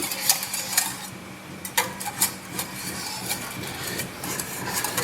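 A whisk scraping and rubbing through thickening Mornay cheese sauce in a pan, a soft rhythmic swishing with occasional sharper clinks against the metal, close and steady, no talk.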